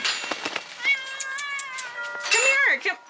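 A hungry cat lets out a long, wavering meow followed by a shorter one, close and distinct, with faint background noises around it.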